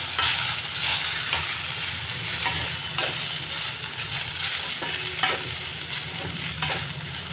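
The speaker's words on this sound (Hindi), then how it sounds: "अब साबूदाना के मीडियम आंच पे ही रोआ एकरा के अच्छी तरीक़ा से भूना।" Sabudana, tapioca pearls, roasts in a pan over medium heat, giving a steady close-up sizzle and scrape with light clinks of stirring, continuous and even throughout.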